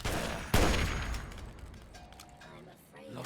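A security turret opens fire in the Fallout 3 video game with a sharp loud report, followed by a decaying burst of rattling gunfire and mechanical clatter. A voice can be heard faintly in the background.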